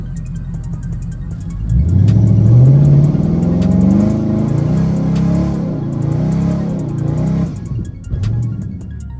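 A widebody Dodge Challenger R/T with a 5.7L engine pulls hard in first gear, its loud, close exhaust note rising steadily in pitch for several seconds, then settling before easing off near the end.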